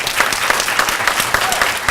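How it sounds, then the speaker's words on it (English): Crowd at a Jackson State University talk by Ilyasah Shabazz, daughter of Malcolm X, breaks into applause, a close, lively burst of many hands clapping with crisp individual claps throughout. "Let's give them a round of applause."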